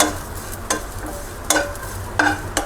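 Dry coconut roasting in a pan while being stirred, with soft sizzling and a few distinct scrapes and clinks of the spoon against the pan at irregular intervals, and no talking.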